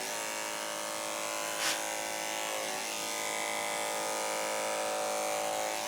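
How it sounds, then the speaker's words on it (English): Electric clippers shaving a cat give a steady, close high-pitched buzz that holds an even tone throughout, with one brief bump partway through. "And I just let the clippers do the work for me."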